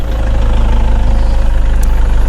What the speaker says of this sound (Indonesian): Seperti ini suaranya, Innova 2014 pemakaian 15 2KD tipe G, full standar kondisinya.